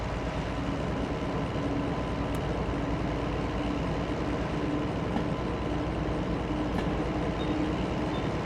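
A locomotive running on railway track in Coal Valley, a steady dense rumble and drone throughout, loud and continuous without talk.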